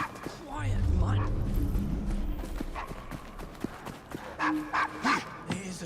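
A dog in Assassin's Creed Syndicate barks and yips in a short burst of several sharp calls near the end, after a stretch of speech and hoofbeat-like clatter.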